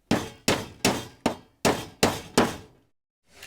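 Sharp hammer strikes drive nails to tack the sides of a simple wooden picture frame, seven evenly spaced hard blows in quick succession with brief ringing decays, then a pause.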